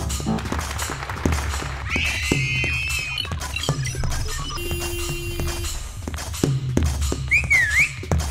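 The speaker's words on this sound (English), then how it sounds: "the whistle" Whistled notes sweep up and down twice within an experimental music sample collage, bright and clear over clopping, layered sampled sounds.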